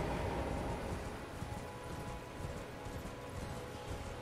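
Horse hooves in the Elden Ring video game beat a steady, fast galloping rhythm over a continuous noisy game background, with no talking.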